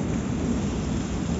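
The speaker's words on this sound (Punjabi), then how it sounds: "ਮੀਂਹ ਜਿਹੜਾ ਆ ਗਿਆ ਹੈ" Steady rain on a rainy day in rural Punjab makes a dense, constant low rumble, close and unbroken, without a distinct thunderclap.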